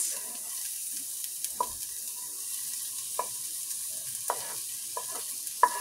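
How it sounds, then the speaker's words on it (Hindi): Onions and green chillies sauté in a teaspoon of hot oil for chicken bread roll filling, a low, gentle sizzle punctuated by a handful of crisp spoon knocks against the pan, close and unaccompanied by speech. "और हरी मिर्चें डाल के बस सौते करना है इसको"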